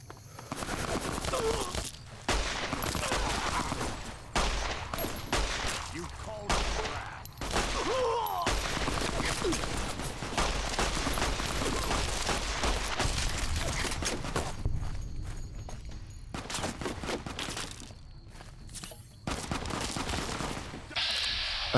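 An auto pistol fires in a video game in rapid, loud bursts of shots separated by short quiet gaps, with busy game sound in between and no clear talk.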